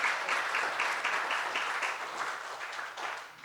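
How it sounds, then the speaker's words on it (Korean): A church revival congregation claps together in a dense burst of applause with a loose rhythmic pulse, holding steady and then thinning slightly toward the end. "하나님께 영광의 박수 올려드리시겠습니다."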